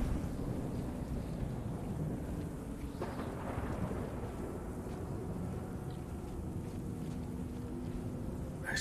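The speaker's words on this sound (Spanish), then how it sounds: "Tengo que escapar de esta tormenta." A storm in the sci-fi horror game The Callisto Protocol rumbles with continuous rain and wind roar, a deep thunder swell rising midway, no talking heard.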